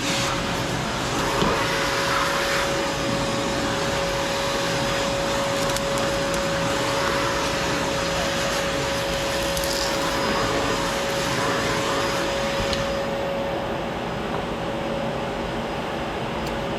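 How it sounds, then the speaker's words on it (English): A vacuum cleaner runs steadily during a stove and oven cleaning, giving a loud, even motor drone with a constant high whine. The drone continues unchanged almost the whole time, with no voices. "Vacuum back on."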